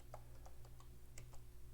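Quiet keystrokes on a computer keyboard: a short run of about eight light, irregular taps over a faint steady hum.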